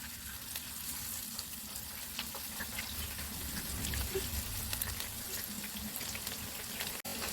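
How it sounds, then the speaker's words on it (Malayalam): Ivy gourd (kovakka) pieces fry in hot oil with a steady, dense crackling sizzle that holds for the whole stretch, close and fairly loud, ending in a brief knock. "ഇപ്പോൾ എണ്ണ നല്ലോണം ചൂടായിട്ടുണ്ട് ഇനി നമുക്കതിലേക്ക് കോവയ്ക്ക് ഇട്ട് കൊടുക്കാം"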